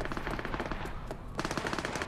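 Rapid machine-gun bursts and single gunshots from the video game Cyberpunk 2077, loud and dense across the whole stretch, with a brief lull in the middle before the firing resumes.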